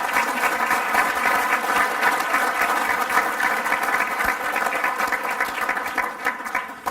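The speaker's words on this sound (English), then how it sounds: "Let's give Tom Voss and Carol Voss another round of applause." Audience applause at the 96th Annual Dinner Meeting for Tom Voss and Carol Voss, a steady, dense wash of clapping that holds evenly for several seconds before tapering slightly at the end.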